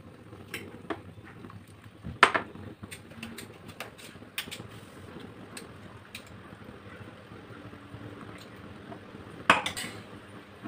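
Curry with coconut milk stirred in a pan on the stove, with soft scraping and occasional sharp clinks of a spoon against metal at a steady, quiet level, no talking.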